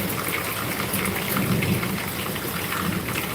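Steady rain pouring outdoors on a garden, a dense continuous patter with low rumbling underneath, close and loud throughout with no voices.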